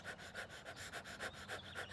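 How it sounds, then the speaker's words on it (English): Rapid rhythmic yoga breath-of-fire panting, about eight quick forceful exhalations in under two seconds, close and steady with no talking. "take some really cleansing deep breaths, the breath of fire if you have a yoga practice"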